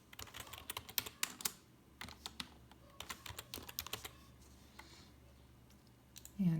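Irregular bursts of computer-keyboard typing fill the room, close and fairly quiet, with clustered keystrokes and short pauses while someone enters details for a house showing setup.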